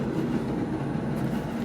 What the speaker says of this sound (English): well, it's the sound of the train.